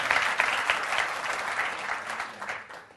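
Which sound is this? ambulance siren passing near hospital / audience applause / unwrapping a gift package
audience applause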